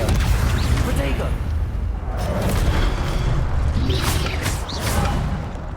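Spell-casting effects in Hogwarts Legacy: booming impacts and whooshing magical bursts at close range, with a voice calling out throughout.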